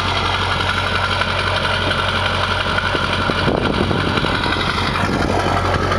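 A 2004 LB7 Duramax diesel with failing injectors idles close by, a steady loud clattering rumble with a faint rough knock running through it, no talking.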